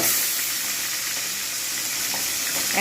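Hilsa fish fries in a pan with a loud, dense, continuous sizzle close up, steady from start to finish.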